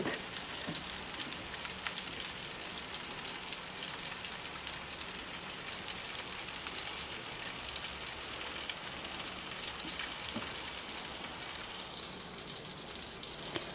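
Surmai fish coated in rava shallow-fries on a tava in Kokan Maharashtrian style, a dense, continuous sizzle with fine crackling spatter running evenly throughout.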